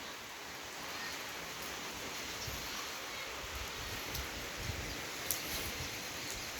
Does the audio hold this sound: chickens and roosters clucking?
no